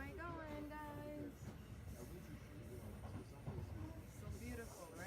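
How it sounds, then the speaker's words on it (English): The interior of a moving train gives a continuous low rumble and hiss with soft rhythmic clatter, while a voice talks briefly at the start and again near the end. "I'm on the train. Ooh, the train ride is so nice."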